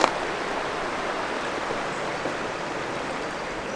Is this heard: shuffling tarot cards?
no